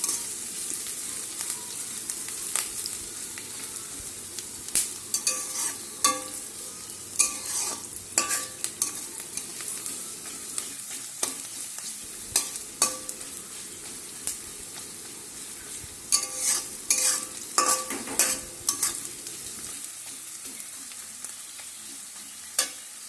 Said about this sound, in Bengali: ভালোভাবে লাল লাল করে ভেজে নিতে হবে।